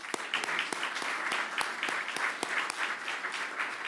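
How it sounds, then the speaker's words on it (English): A room of guests at a Fleet Week breakfast applauds Gold Star families who lost loved ones in combat, with sharp, distinct claps ringing out over a softer, steady patter of clapping. "Let's give these members a round of applause."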